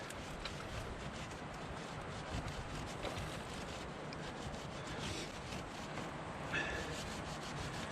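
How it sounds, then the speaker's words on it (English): A rag rubs old lube and dirt off the rollers of a motorcycle chain, a faint, continuous scrubbing and swishing with no voices. "Let's give all the rollers a good wipe over."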